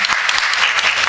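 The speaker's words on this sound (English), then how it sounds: "Claps for them." An audience claps throughout, a dense, even burst of applause from a room of people at a talk on film distribution, with a faint voice under it.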